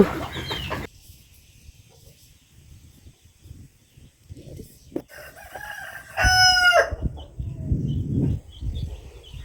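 A native desi rooster gives one loud, close crow after scattered soft clucks and rustling, then more low clucking and movement follow.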